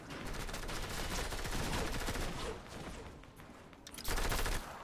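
A video game minigun fires continuously in a dense, loud, rattling burst that runs through the whole stretch, briefly easing midway and then swelling again near the end.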